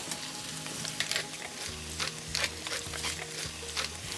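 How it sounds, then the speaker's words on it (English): Ground turkey seasoned with salt and black pepper sizzles in a pan and is broken up with a spoon, producing a steady close frying hiss punctuated by soft scraping and tapping strokes. "And I'll just cook it, breaking it up with a spoon."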